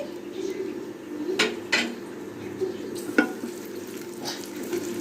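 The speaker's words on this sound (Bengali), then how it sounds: "দিয়ে একটু ভালো করে একটু ভেজে নেব" Dried red chillies, chopped garlic and ginger fry in oil in a pan for kala bhuna, with a soft sizzle under a few sharp clinks and scrapes of a spoon against the metal.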